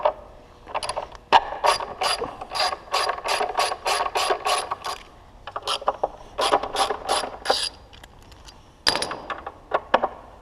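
A ratchet clicks in quick repeated bursts while backing out screws from the front wheel well of a Yamaha R6 motorcycle, in close, crisp rhythmic runs with brief pauses between them.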